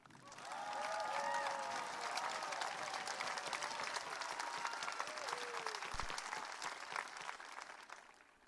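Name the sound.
graduation crowd applause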